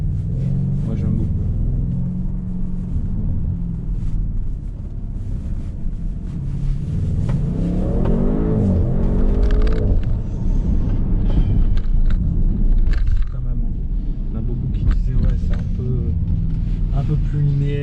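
A 2020 Audi RS6 wagon's engine rumbles and rises in pitch while driving along with some wind noise, and a person talks over it the whole time.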